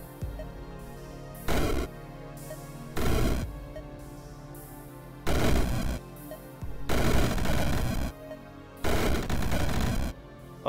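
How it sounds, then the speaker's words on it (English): Loud bursts of rapid, crackling chain-reaction explosions in the video game Rift Wizard come in five separate waves, each lasting about a second or two, with quiet gaps between them. "they do create big chain reaction explosions like that."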